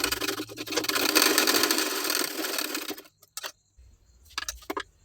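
A sewing machine stitches side tucks on fabric attached to lining. It whirs in a fast, steady run for about three seconds, stops, then gives two short bursts of stitching.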